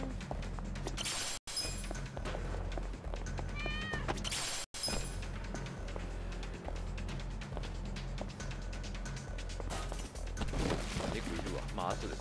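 A cat meows several times in the video game Yakuza: Like a Dragon, short rising calls over busy game music and effects, with someone talking over them.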